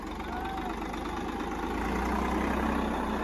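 A tractor engine runs close by with a constant low, rumbling drone that stays steady and slightly swells toward the end.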